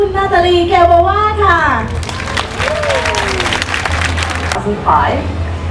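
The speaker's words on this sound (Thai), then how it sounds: "ปรบมือดังๆ ให้กับแบรนด์แอมบาสเตอร์ของเรา" Loud audience applause for a brand ambassador at the Young Designer Competition 2011 in Thailand, a steady wash of clapping under an amplified woman MC's voice and crowd noise, with children's voices heard at times.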